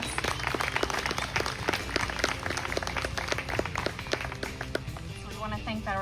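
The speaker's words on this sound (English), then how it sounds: "So let's give her a round of applause." Audience applause at a live radio show, crisp clapping with distinct individual hand strikes over a steady crowd patter, with a held instrumental tone and other sounds mixed in underneath.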